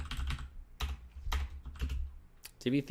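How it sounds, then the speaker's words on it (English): Computer keyboard typing in bursts of rapid keystrokes across a few seconds, close and fairly clear, while entering a name during a website setup. "So I'll just type in Divi theme"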